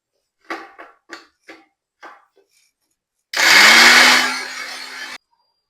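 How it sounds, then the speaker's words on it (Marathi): A kitchen mixer grinder whirs loudly for about two seconds as it grinds ginger, garlic and onion, preceded by several short knocks and taps, then cuts off abruptly. "अद्रक, सांबार आणि लसूण एक एक करून मी मिक्सीमध्ये बारीक करणार आहे."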